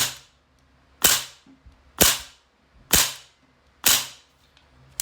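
Daytona G&P FN M16A4/M4 airsoft rifle firing on semi, five sharp loud cracks spaced about a second apart, each with a short decaying tail and low mechanical noise between shots.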